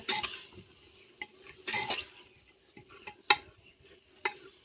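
A spoon scrapes and clinks against a pot while chana dal is stirred with tomatoes. The strokes come as a few irregular bursts with sharp metallic taps, close by, and no one speaks.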